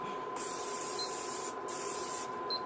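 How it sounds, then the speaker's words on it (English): Cooking spray hisses from a can onto a pan in two bursts, close and loud, with a faint steady electronic tone from an induction cooktop underneath. "take our pan off to the side and spray it"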